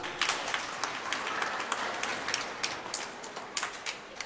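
Loud applause from a congregation during a homily at a Mass, a dense, steady patter of many hands at a moderate distance, with no voices over it.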